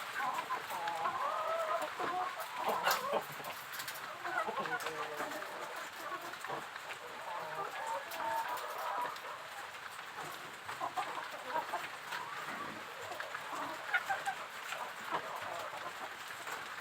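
Chickens cluck continuously inside a coop during egg collection, several birds overlapping in soft, fairly distant chatter with occasional louder squawks, while a person talks quietly nearby.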